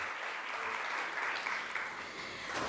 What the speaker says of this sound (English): a round of applause for their hard work and effort that they actually put in.